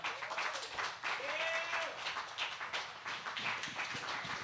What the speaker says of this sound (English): give a round of applause to everybody that read tonight